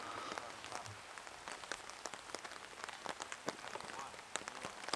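Rain falling across a disc golf course at Nantucket, a soft continuous patter with scattered sharper drops ticking on nearby surfaces, fairly quiet and steady throughout.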